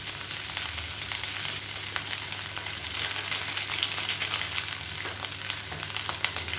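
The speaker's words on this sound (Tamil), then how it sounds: "சேர்த்துட்டு நல்லா ஹை ஃப்ளேமில் சுருள சுருள கிளறி வச்சுக்கணும்." Egg fried rice stir-fries on a high flame, a steady close sizzle with scraping and tossing sounds running throughout and no one speaking.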